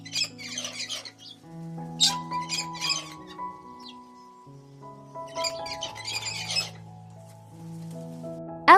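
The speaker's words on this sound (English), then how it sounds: "Cockatoo." Cockatoo squawking in bursts of harsh, raspy calls, fairly close, over a steady backing of musical tones.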